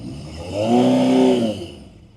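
A Honda CB750 restomod motorcycle engine on the road swells in a single brief rev, rising and holding for about a second before easing off, fairly close with no talking.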